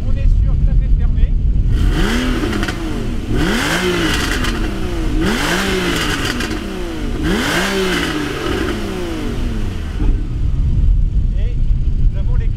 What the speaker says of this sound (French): Je vais mettre 2-3 petits coups de gaz histoire que vous ayez le son.